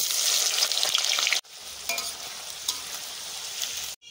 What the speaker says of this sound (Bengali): এবার আগে আমি বেরেস্তাগুলো ভেজে নেব